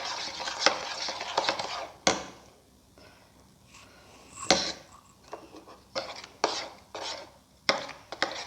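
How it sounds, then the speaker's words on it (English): A spoon stirs sugar into a watermelon, banana and milk mixture in a bowl, with intermittent scraping strokes and clinks arriving in uneven bursts separated by brief quiet gaps. "Keep on mixing."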